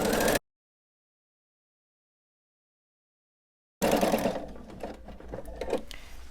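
A sewing machine runs a straight quilting line across a quilt in a short burst, then falls silent for a few seconds before stitching again in a steady, close whir with a longer run.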